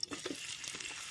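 Thinly sliced onions frying in hot oil, a brief, faint, steady sizzle with a couple of soft stirring taps, close by and alone.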